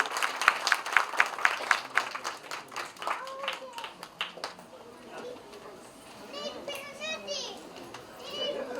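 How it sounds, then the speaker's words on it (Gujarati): Scattered clapping from an audience at a housing scheme inauguration ceremony in Bhavnagar, mixed with children's voices and chatter, with brief bursts of claps early on fading into background crowd noise. "આપણે સૌ તાળીઓથી આ ઉપક્રમમાં જોડાઈએ."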